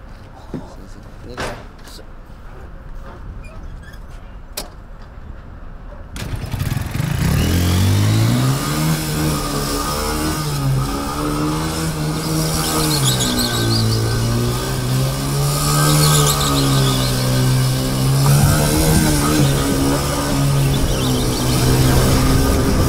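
After a few quiet knocks and clicks, a homemade go-kart's engine bursts to life loudly and close by, revving in rising and falling waves of throttle that sustain without a break through the rest of the run.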